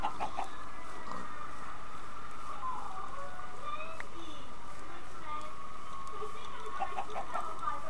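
A Minecraft chicken clucks repeatedly over a steady game background hum, the clucks moderately loud and intermittent.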